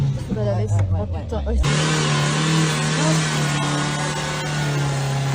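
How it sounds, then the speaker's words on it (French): A car is driven and then parked, its engine a steady, fairly loud hum that carries on under people talking the whole time. "Là, on est en train de stationner la voiture"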